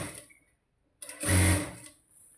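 A sewing machine stitches piping onto a blouse neckline in two short bursts, a brief run and then a louder, faster whirr after a pause, close and with no talk.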